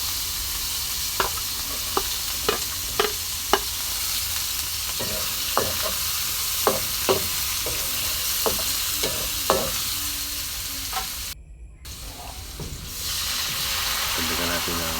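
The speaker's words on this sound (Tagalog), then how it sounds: "mag-gisa tayo mga idol ng sibuyas, luya, sa ating karot" Onion, ginger and carrot sautéing for a sauce, a constant close sizzle punctuated by regular sharp ladle taps and scrapes against the pan, with a brief drop in level near the end.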